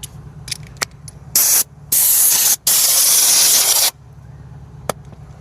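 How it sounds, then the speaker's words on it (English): Aerosol can spraying black paint onto a Bentley wheel in short bursts: three loud close hisses, the last lasting about two seconds, with faint clicks between. "Hit these little spots that I have to shoot some paint on too."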